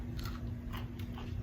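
Someone bites into crunchy, hard, crispy hot shot biscotti, producing several close, dry crunches over a steady low background hum.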